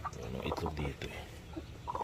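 Chicken peeping and clucking inside a coop of Darag native chicken crossed with Rhode Island Red, a few soft high calls near the end over a steady low background murmur.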